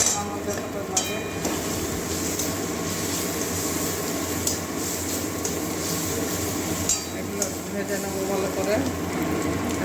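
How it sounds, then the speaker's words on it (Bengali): Spices fry with turmeric in a pan for an ivy gourd and potato curry, giving a steady close sizzle with scattered metallic clinks of a spoon against the pan. "ভালো করে এটা মশলা ভেজে নেবো হলুদ দিয়ে দিচ্ছি"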